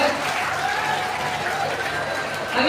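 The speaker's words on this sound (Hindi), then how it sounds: "आप लोग अंत में ताली बजा लीजिएगा" An audience at a talk in Nawada breaks into sustained clapping, a dense, even patter of many hands that stays loud throughout and lifts slightly at the end.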